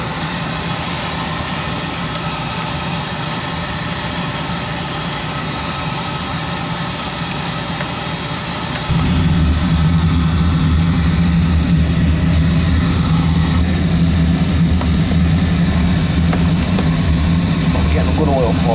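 A Beckett oil burner lights about halfway through: a steady hiss gives way to a louder, deep, constant roar that carries on evenly to the end.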